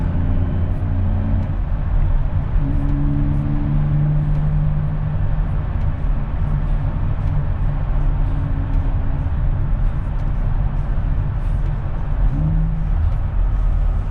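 A 2023 Nissan Z fitted with an HKS full dual muffler cat-back exhaust drones low and steady from inside the cabin while cruising, a constant rumble with slight swells and no talking.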